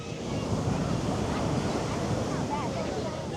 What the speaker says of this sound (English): The waves are a little strong